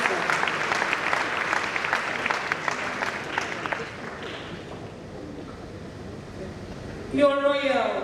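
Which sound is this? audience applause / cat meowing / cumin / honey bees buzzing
audience applause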